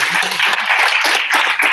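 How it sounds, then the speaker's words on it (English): Audience applause welcoming a speaker at a stammering awareness session, a short dense burst of clapping from a crowd, loud and close, with brief voices mixed in. "So let's, with a big round of applause,"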